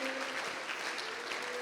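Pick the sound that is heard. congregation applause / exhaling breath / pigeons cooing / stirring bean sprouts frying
congregation applause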